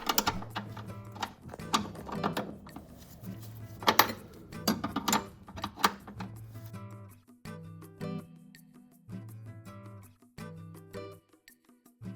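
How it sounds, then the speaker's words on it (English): An 11mm flare nut wrench loosens a brake line on a BMW E46 M3 during a big brake kit install, producing a close series of metallic clicks, clinks and ratcheting taps, busy at first and then sparser. "let's remove the brake line. Make sure to use one of these flared wrenches made specifically for brake lines so that you don't strip it."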